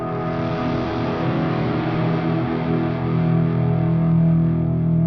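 A sustained, heavily processed electric guitar tone through a Line 6 Helix multi-effects processor swells and warbles with thick distortion and modulation, loud and continuous with no one speaking.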